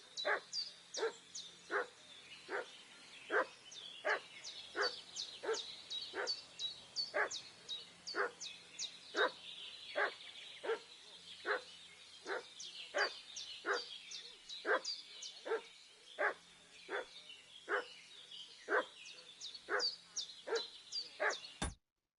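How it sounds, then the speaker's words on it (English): A single dog barks over and over in a steady, evenly spaced run of sharp barks, roughly one per half second, clear and at moderate distance against a quiet background. "What's that dog making such a fuss about?"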